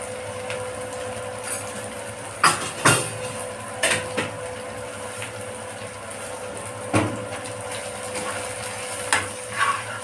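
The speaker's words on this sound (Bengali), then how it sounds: "একটু নাড়াচাড়া করবো" Turmeric and coriander powder are stirred in a hot pan for masoor dal with bottle gourd and potato. A soft, steady sizzle runs underneath, with scattered, sharp knocks and scrapes of a spoon against the pan.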